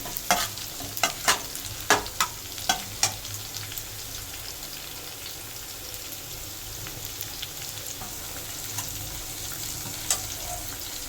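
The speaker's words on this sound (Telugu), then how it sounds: "ఇందులో మనం పచ్చిమిరపకాయలు వేసేసుకున్నాము. వేసుకొని కలుపుకోవాలి." Green chillies stirred into an egg mixture in a frying pan for a chicken egg roll, a run of regular spatula scrapes and taps over a continuous soft sizzle, close up and without speech.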